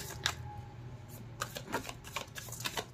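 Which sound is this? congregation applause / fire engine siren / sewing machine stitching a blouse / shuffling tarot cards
shuffling tarot cards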